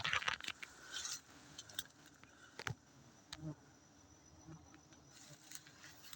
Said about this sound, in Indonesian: hari ini kami dalam pengambilan madu lebah dorsata.